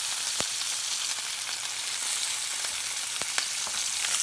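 Eggs fry in a pan, giving a steady faint sizzle with occasional small pops and crackles and no voices.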